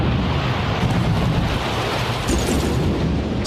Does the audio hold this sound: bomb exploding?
yes